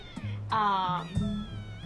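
Kittens in the Shelter 2 video game meow loudly and close, a few drawn-out, wavering cries in quick succession over a low background tone.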